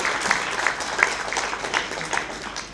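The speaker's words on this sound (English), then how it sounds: "At least clap for them." An audience gives brief, steady applause for hospital staff during a Shiv Jayanthi celebration at Global Hospital, a short burst of close clapping.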